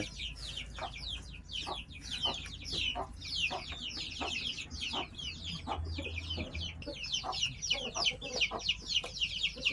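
Several chickens cluck and chatter continuously nearby, overlapping calls with a low outdoor rumble underneath.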